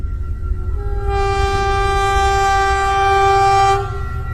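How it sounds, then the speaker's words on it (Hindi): A train starts moving: a loud, sustained horn blares over a low rolling rumble, then cuts off near the end, leaving the rumble. "और फिर ये ट्रेन स्टार्ट हो जाती है।"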